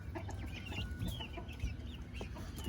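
Chickens cluck and chirp in a backyard flock that includes silkie chicks, summer in Texas, with soft scattered calls close by and a low rumble underneath.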